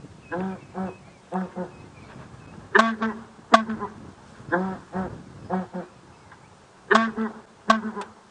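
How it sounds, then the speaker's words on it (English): Southern ground hornbill calls played back from a phone bird app during a sunrise safari drive: repeated deep booming hoots in short paired bursts, some louder and closer than others, spaced through the recording with no voices. "That was just a call of the southern ground hornbills on my phone"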